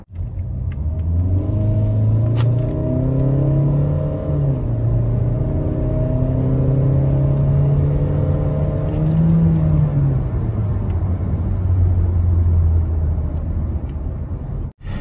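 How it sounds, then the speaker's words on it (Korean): A 2016 Kia Sportage QL 2.0 Prestige accelerating hard on the road, heard from inside as a loud, steady engine drone that climbs in pitch through the gears, with a brief dip for a shift midway. "네, 그럼 가속 한번 해볼게요."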